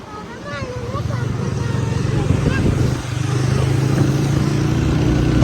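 A motorbike engine runs steadily at close range with a constant low, rumbling drone, dipping briefly before settling again, while voices are heard over it.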